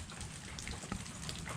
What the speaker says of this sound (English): after a good 5 minutes of pouring down rain